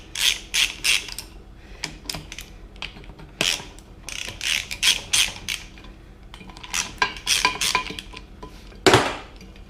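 Ratchet loosening size 12 bolts on a brake disc held in a vise with aluminium jaws: close, sharp clicking runs in irregular bursts, broken by metallic clanks and short pauses.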